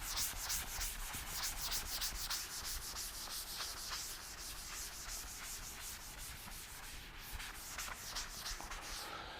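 Writing being rubbed off a classroom board, a quick run of rhythmic scrubbing strokes that stays steady and close throughout, with no voices.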